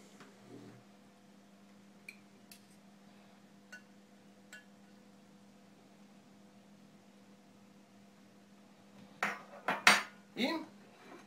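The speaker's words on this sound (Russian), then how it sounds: "Теперь можно выложить их на тарелку." Several sharp clinks of dishware and utensils as microwave-cooked chicken legs are put onto a plate near the end, after a long stretch of quiet kitchen hum with a few faint ticks.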